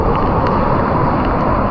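Steady, dense roar of heavy monsoon rain and stormy wind buffeting close by at the sea, a continuous broadband rush with no pauses.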